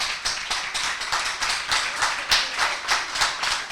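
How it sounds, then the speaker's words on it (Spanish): Audience applause in a theatre-style talk setting, steady rhythmic clapping from a crowd, fairly close and continuous throughout. "Y agradezco el aplauso"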